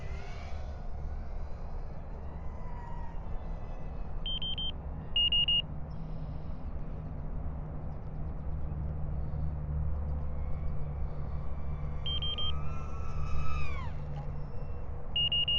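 High-pitched whine of an FPV quadcopter drone on old Betaflight firmware flying at night, a thin tonal drone with repeated electronic beeps and a rising and falling pitch sweep near the end.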